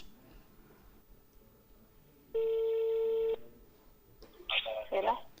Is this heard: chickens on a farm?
no